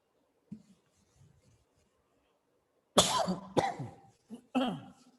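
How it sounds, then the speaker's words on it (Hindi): A cluster of harsh coughs, several bursts in quick succession after a soft faint sound, close and fairly loud. "खांसी लग गई है"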